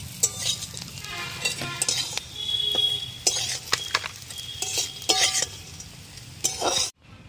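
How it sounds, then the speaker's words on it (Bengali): Bitter gourd sizzling in oil in a pan with intermittent scraping and clinking of a utensil against metal, close up, ending abruptly. "উচ্ছেটা ভাজা হয়ে গেছে, আমি উচ্ছেটা নামিয়ে নেব।"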